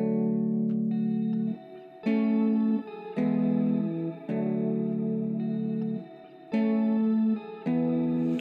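Two guitars layered in an Afrobeat production, one soaked in Valhalla Shimmer reverb, play bright, sustained chord stabs. Sounding phrases alternate with short gaps, and the tone is warm with a shimmering, effected sheen.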